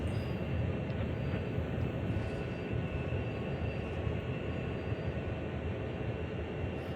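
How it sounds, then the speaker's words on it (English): A GP38 diesel locomotive in the game Train Sim World slows to a stop, a low, steady rumble of engine and rolling rail noise, even and continuous, with a faint high whine above. "So I'm going to stop the train here."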